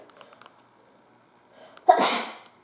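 One loud, close human sneeze bursts out near the end after a stretch of faint, quiet background sounds.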